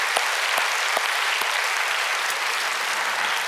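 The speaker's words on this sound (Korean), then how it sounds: "그런 분들을 위해서 박수 한번 치겠습니다." A church congregation at a Friday overnight worship service claps together, a dense, steady wash of applause filling the whole stretch at even loudness, with no talk over it.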